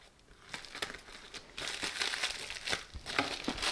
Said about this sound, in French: Donc, on va commencer à déballer tout de suite.